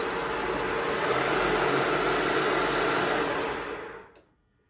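An electric motor driven by a VFD at 90 hertz gives a loud, steady whine and hum, then winds down abruptly to near silence in the final half second.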